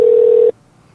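A single steady telephone tone, loud and close, holds for about half a second and then cuts off abruptly into near silence.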